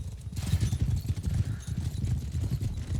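Horse hooves galloping across a battlefield in the video game Mount & Blade Bannerlord, a loud, rapid and continuous drumming of thuds with no voices over it.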